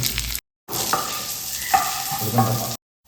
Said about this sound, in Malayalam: അണ്ടിപ്പരിപ്പും മുന്തിരിങ്ങയും നല്ലതായിട്ടൊന്ന് മൂത്തിട്ടുണ്ട്